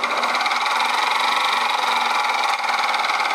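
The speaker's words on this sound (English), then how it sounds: "Some rattling coming from inside the gearbox." A mini mill's gearbox runs steadily with a constant mechanical whir and a fine, even rattle from inside the gears, close and continuous with no talk.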